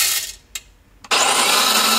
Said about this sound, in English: And I'm going to grind it fresh this time.